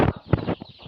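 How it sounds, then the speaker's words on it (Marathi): Young country hens and their week-old chicks cluck in short, close bursts, several quick calls in about a second. "आता हे कोंबडे आहेत, ही लहान आहेत पिल्लं"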